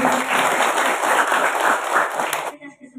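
An audience claps at a small religious school gathering, a dense burst of applause that keeps going steadily for a few seconds, then stops abruptly, leaving faint room noise.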